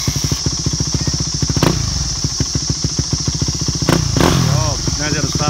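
A Yamaha YZ250F dirt bike starts and pulls away, its single-cylinder engine popping in a rapid, steady beat with sharp revs and throttle blips, loud and close.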